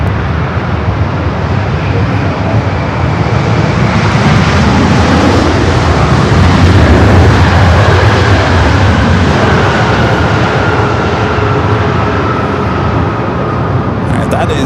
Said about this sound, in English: that is the A350-900, the flight to Kevin from Tokyo Haneda